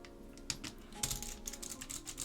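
Fingers type on a mechanical keyboard with clicky Alps switches. The keys give a quick, crisp run of sharp clicks, close by and fairly loud, with no voice.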